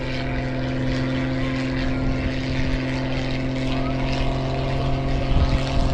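A Pitts Special biplane flies an aerobatic display at Southport airshow, its propeller engine droning loud and steady throughout with a constant harmonic hum, no talk over it.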